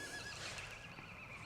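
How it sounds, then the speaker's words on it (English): A horse neighs in the countryside near a house and cottage, a faint, brief whinny from a distance, with soft hoof clip-clops in the quiet background. "Oh, horse is going."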